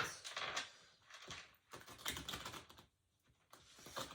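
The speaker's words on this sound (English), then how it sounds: "I'm having trouble shuffling" A deck of tarot cards is shuffled in several quick, soft, papery riffling bursts separated by short pauses, faint and close, with no voice heard.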